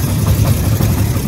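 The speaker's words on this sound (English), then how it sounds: "That's the engine doing. That was just the engine." A 1967 Ford Mustang engine runs steadily after its first start in 39 years, a loud, close, continuous low rumble with a slightly uneven idle throughout.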